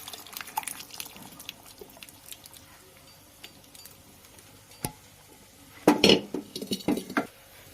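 Pre-boiled chana dal tipped into a pan with clinks of a metal spoon against cookware, quiet scraping and a louder burst of clattering and stirring toward the end, no talking.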